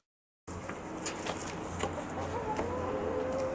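Chickens at a park farm area cluck in soft, scattered bursts amid outdoor ambience, after a brief initial silence, with no talking.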